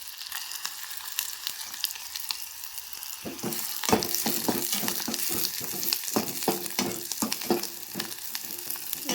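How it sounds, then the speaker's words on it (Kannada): Chopped onions sizzle in a hot pan with cumin, a steady close frying hiss joined partway through by repeated scraping strokes of a spoon stirring, with no talking. "ಉಳ್ಳಾಗಡ್ಡಿ ಸ್ವಲ್ಪ ಗೋಲ್ಡನ್ ಕಲರ್ ಬರೋ ತನಕ ಫ್ರೈ ಮಾಡ್ಕೋಬೇಕು"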